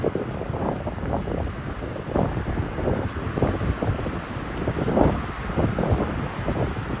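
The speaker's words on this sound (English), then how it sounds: "this wind has shifted during the ride today" Wind buffeting a microphone during a bike ride around Jamaica Bay in New York City, loud irregular gusts rumbling and surging in uneven waves with no talk.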